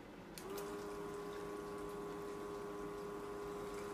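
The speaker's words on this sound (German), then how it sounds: "So, und jetzt drücke ich auf Pumpe." Small water pump in a homemade 20-watt air conditioner switching on, a steady tonal whine with gurgling water flow starting after a brief moment and running continuously, close and moderately loud.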